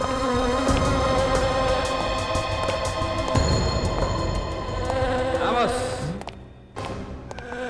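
A honeybee drones steadily and close by, with a few thumps and some rustling mixed in.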